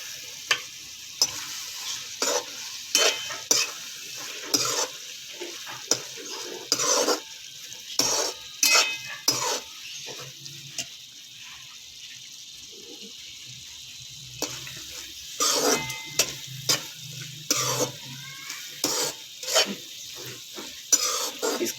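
Okra masala with lemon juice frying in a pan, crackling sizzle broken by repeated sharp spatula scrapes and stirring clatter throughout, with faint background noise and no clear speech.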